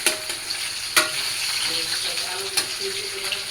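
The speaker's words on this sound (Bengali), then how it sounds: "আর এই পাশে আলুটাও ভেজে নিতেছি বিরিয়ানিতে দেওয়ার জন্য" Potatoes fry in a pan for biryani with a continuous close sizzle, broken by a few sharp clinks of a spoon stirring against the pan.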